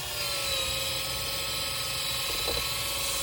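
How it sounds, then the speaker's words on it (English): A motorized electric sander running steadily on resin with fine 320-grit paper, a continuous close whirring drone with a faint high whine, a small surge near the end. "Sand him down."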